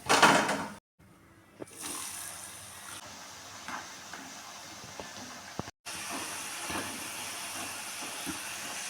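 Potato french fries frying in hot oil, a steady hissing sizzle with occasional clinks, broken by two short cuts to silence, moderately close with no talking.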